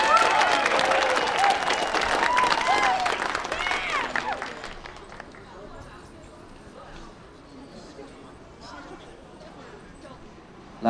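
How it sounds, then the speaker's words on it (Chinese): A bar crowd claps to welcome a guest called up on stage, steady dense applause for about four seconds that fades into murmuring room noise, with talk over the start. "掌声鼓励。"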